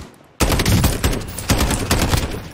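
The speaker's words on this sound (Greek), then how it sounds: "Ναι, άκουσα πυροβολισμούς." Rapid bursts of automatic gunfire from a Call of Duty Warzone match erupt abruptly and continue loud and dense, with repeated shots stacking into a sustained fusillade.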